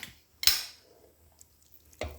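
Small boneless chicken pieces dropped into a kitchen food chopper, two distinct clattering impacts about a second and a half apart, close and clear in an otherwise quiet room.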